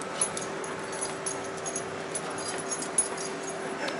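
A dog whimpers softly, giving a few faint, high, breathy whines over a quiet indoor background, with no talking.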